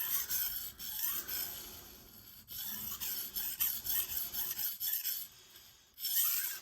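A knife blade is sharpened on a wet Naniwa Chosera 600 grit whetstone, giving close, gritty rasping strokes in a steady back-and-forth rhythm with short pauses, with no voice.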